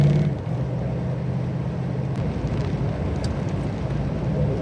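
A Ford Mustang engine pulls at about a quarter throttle, a loud, close, continuous low rumble that holds steady with slight swells and no speech.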